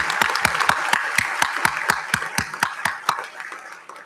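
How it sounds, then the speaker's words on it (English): Applause at a dental school white coat ceremony, with sharp, close, rhythmic handclaps in unison beating steadily over softer crowd clapping, then easing off toward the end. "Please join me in another round of applause, please, for the class of 2028."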